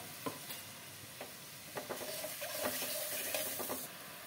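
Water from ground mustard paste tipped into a hot pan for a parshe fish curry, giving a faint, close sizzle with light stirring clicks and scrapes.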